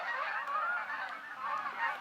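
Geese honk in a noisy flock, a continuous overlapping chorus of nasal calls from a middle distance, with no speech over it.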